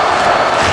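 Crowd at a women's wrestling championship match in Los Angeles, California, roaring in a dense, continuous wash of cheering.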